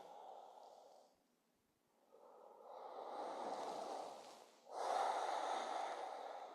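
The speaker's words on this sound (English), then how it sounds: "We'll take 2 more breaths here." Slow, deep breaths taken during a stretching exercise, close and soft, with long airy inhales and exhales separated by a brief pause and no talking.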